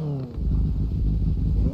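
Motorcycle engine idling and running in GTA V, a steady low rumbling drone that picks up loudly after a brief pause and holds near and constant.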